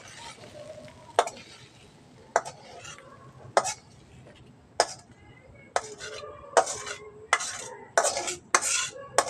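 Okra frying in a pan on a low gas flame, stirred with a utensil: a steady close sizzle broken by repeated sharp scrapes and clinks of the spatula against the pan, coming faster toward the end, with no talking.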